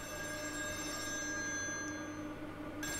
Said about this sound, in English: Oh, the phone ringing.